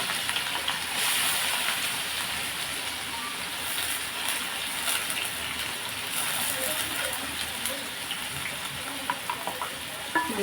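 Onions and green chillies fry in hot oil on a stove, giving a steady, close, bright sizzle that runs continuously throughout with small crackles.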